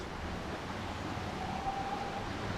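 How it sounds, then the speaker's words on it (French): A small river flows steadily nearby in a quiet spot in Ubud, Indonesia, a continuous broadband wash of moving water at an even level with no talk over it. "Petite rivière."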